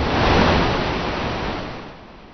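Surging Beaver River water near the Townsend Dam pours in a loud, dense roar, strongest early and easing slightly toward the end, with no voices.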